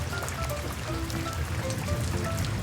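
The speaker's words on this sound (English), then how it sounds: "listening to the rain outside" Rain falls steadily outdoors, a dense, continuous patter of drops on surfaces heard close and fairly loud throughout.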